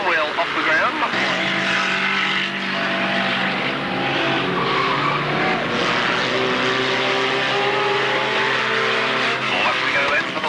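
Race cars lap the track at Alwalton, engines roaring continuously and loudly close by as the pack passes, with a commentator talking over the noise throughout.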